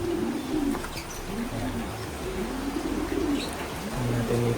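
Racing pigeons coo repeatedly in low, rolling phrases, several birds overlapping close by against a steady background hiss, with no talk.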